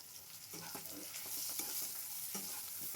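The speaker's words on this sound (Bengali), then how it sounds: "এবার একই তেলে অল্প কালো জিরে ফোড়ন দিয়ে কেটে রাখা আলুগুলোকে দিয়ে দিলাম।" Cut potatoes fry in oil tempered with black cumin (kalonji), a close, bright sizzle with repeated scraping stirs of a spatula against the pan.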